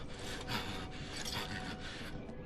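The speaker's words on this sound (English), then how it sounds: "I will saw your head off with this here appliance" Rasping saw cutting through wood in Wolfenstein The New Order, a steady grinding back-and-forth scrape filling the clip, loud and close with no talk over it.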